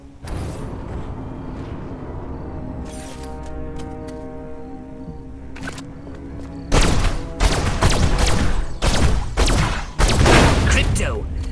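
Zapping alien weapon fire in the Destroy All Humans! (2020) video game: a rapid burst of loud, crackling blasts in its second half, preceded by steady game music and effects, with no talk.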